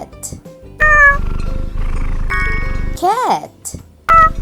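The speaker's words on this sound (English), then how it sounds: "Cat." A cat meows a few times in bright, drawn-out cries, with short rising and falling calls and sharp clicks between them, fairly close.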